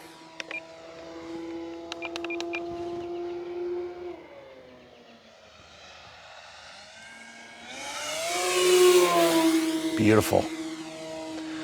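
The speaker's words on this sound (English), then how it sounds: "So guys, if you've never experienced the Commander, it's a great plane." An E-flite Commander mPd RC model airplane with a 1.4 m wingspan, running on a 4S battery, whines as its electric motor passes overhead, the pitch rising and falling, with a brief spoken remark at the field.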